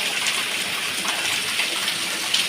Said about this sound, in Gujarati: વરસાદ પણ આવી રહ્યો છે